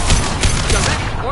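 Rapid gunfire in the sci-fi shooter Mass Effect 2 Legendary Edition, a loud, dense burst of repeated shots running steadily for over a second with a voice speaking briefly over it.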